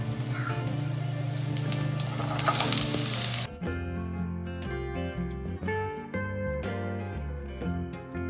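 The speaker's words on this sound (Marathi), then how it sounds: "आता ह्याच्यामध्ये मी हा कांदा टाकणार आहे." Onion tossed into hot tempering oil for a Konkani-style paper mushroom bhaji, giving a loud, steady sizzle for about three seconds that then abruptly gives way to background music with no cooking noise.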